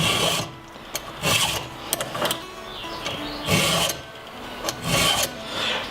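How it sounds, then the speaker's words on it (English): A hand file sharpens a chainsaw chain in repeated rasping strokes at an uneven rhythm, close and fairly loud, with no voices. "use a chainsaw file"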